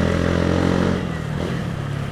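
Motorcycle engine running steadily during a ride through a town street, a continuous mid-pitched hum with a slight drop in loudness partway, close and unaccompanied by talk.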